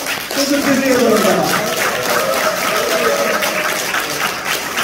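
A crowd applauding and cheering at a public gathering, a loud, continuous wash of clapping with voices mixed in, sustained at an even level from just after the start.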